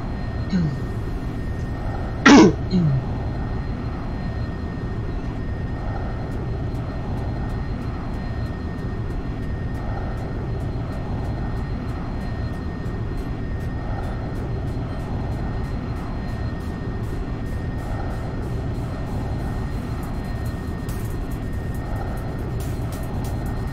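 Steady, even jet engine roar of a Viperjet in X-Plane 11, a constant droning hum throughout with a brief chirp early on and no other change.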